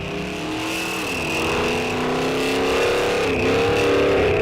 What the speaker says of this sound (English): Here Blaine Chaffee on and off the throttle trying to regulate it.